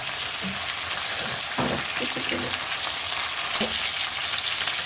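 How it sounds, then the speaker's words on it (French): Pasta frying in a pan hisses with a constant close sizzle, with occasional soft knocks and stirs from a utensil and no voices. "On doit le frire environ 2 minutes."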